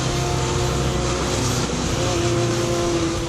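A café racer motorcycle engine runs at a steady, loud drone with sustained tones shifting slightly in pitch, close to the microphone, with no speech over it.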